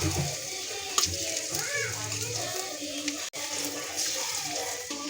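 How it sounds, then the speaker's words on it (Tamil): Sliced onion sizzles and crackles in a miniature toy kitchen pan as an egg stir-fry is cooked, a steady soft frying hiss with small stirring clinks throughout, and a voice talks faintly in the background. "இப்போ வெங்காயம் போடலாம்."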